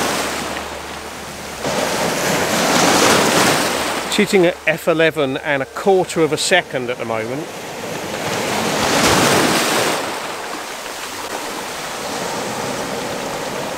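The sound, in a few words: ocean waves breaking at sunset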